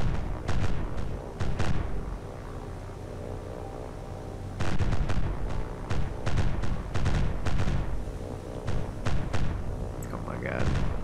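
Bombs exploding on a cargo ship in War on the Sea, heard as two clusters of deep booms and sharp cracks over a steady low engine drone, with a voice talking over the battle.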